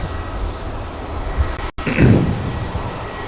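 A jet aircraft on departure from Manchester Airport, bound for Hurghada, roars steadily and loudly throughout, with a brief dropout partway and a swelling surge of engine noise just after.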